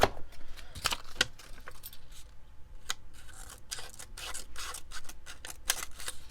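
Tiny scissors on a Leatherman Micra or Gerber Dime multitool snip repeatedly close up, a series of sharp metallic clicks and cuts at an irregular pace, with light handling noise between them.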